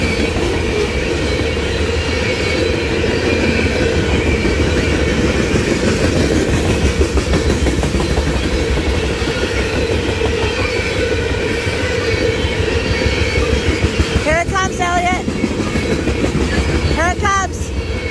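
A CSX freight train with a rear distributed-power locomotive rumbles past close by, a loud continuous roar with rhythmic clattering of wheels and brief metallic squeals near the end.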